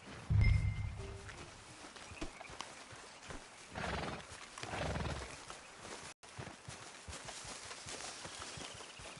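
Horses in the open-world Western game Red Dead Redemption 2, a loud snort or whinny at the start followed by soft hoof clops and shuffling movement, with swells of ambient wind and rustle, no talking.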